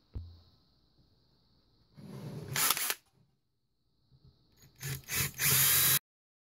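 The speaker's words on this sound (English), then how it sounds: "I need to drill out some paint" Short bursts of a power drill boring paint out of bolt holes for number 8 bolts on a mini Neo Geo arcade cabinet build, one burst near the middle and two louder bursts near the end, close by, with no talking.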